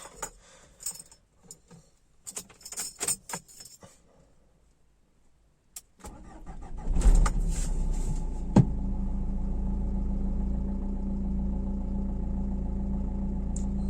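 Keys jangle for a few seconds, then a Dacia Duster's diesel engine cranks and starts, settling into a steady, low idle heard from inside the car.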